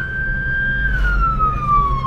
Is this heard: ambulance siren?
yes